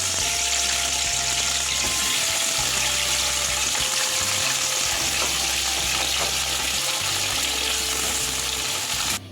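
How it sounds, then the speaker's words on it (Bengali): Green plantain frying in oil, a loud, dense, unbroken sizzle held close throughout, with small pops and crackles and no talking. "কাঁচকলাটাও ভেজে নিচ্ছি।"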